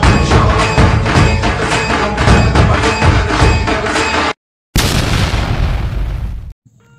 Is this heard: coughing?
no